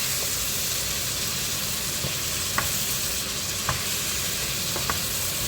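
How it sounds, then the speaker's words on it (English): Tomato paste being stirred in a hot frying pan, a steady close sizzle with occasional light spoon scrapes and taps against the pan. "So you can put in a bit of tomato paste, like just a little bit there. And then you stir."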